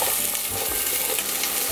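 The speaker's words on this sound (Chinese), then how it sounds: "稍微炒一下。" Carrots stir-frying in a tablespoon of oil in a hot wok, a dense steady sizzle with a soft scrape of the spatula, close and loud, no voices.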